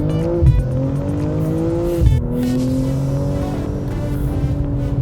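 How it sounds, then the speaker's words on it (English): A 2022 BMW M240i Coupé accelerating hard from 0 to 100 km/h, its exhaust roaring loud and close with rising engine pitch broken by quick gear shifts and a brief tire chirp. "That exhaust makes such a good noise."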